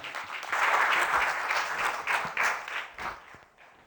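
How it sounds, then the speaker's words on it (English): A crowd applauds with steady clapping that swells quickly, holds for a few seconds, then tapers off. "please put your hands together, make a lot of noise"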